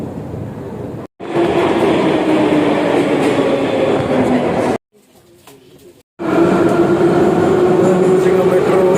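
A Baku metro train rides along, a loud continuous rumble and rail roar with a steady whine, broken by two sudden brief drops to quiet before the noise resumes.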